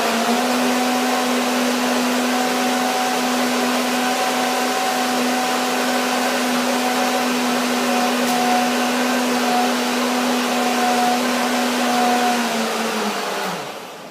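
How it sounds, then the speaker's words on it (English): A blender blending raspberries, citrus and persimmons for a pie filling runs continuously at a steady high whir for about thirteen seconds, then winds down at the end. "it is easier to blend large quantities in a blender when you have several batches"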